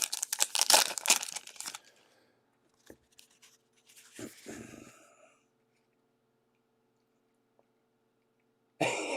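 Trading cards from a Topps Allen & Ginter box break are shuffled by hand in a quick burst of papery riffling and crinkling, close up, followed by a few softer handling rustles and a short pause.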